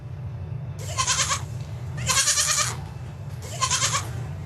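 A goat bleats three times, close, with wavering calls about a second apart over a steady low background hum, and no talking.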